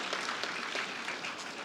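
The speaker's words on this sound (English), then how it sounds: "give a big applause to these doctors" Audience applause for a group of doctors at a live awards ceremony, a steady wash of clapping with small bursts, filling the short moment without any voices.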